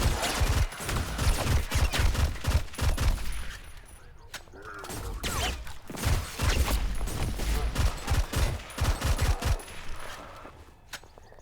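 Rapid bursts of gunfire from a weapon shooting out lights in the ADACA video game, loud clustered volleys with a brief lull in the middle, no talking.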